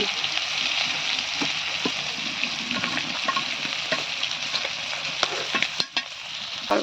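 Hilsa fish fries in a pan with a steady, close sizzle and crackle, broken by scattered pops and a few utensil clicks, with no voices.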